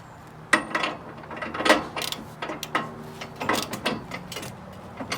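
A nut being tightened with a ratchet on a motorcycle sidecar mount, a series of close, sharp clicking and grinding bursts in an irregular rhythm over a quiet background.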